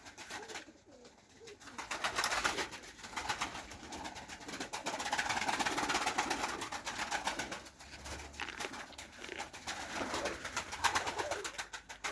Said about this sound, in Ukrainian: Голуби на місці.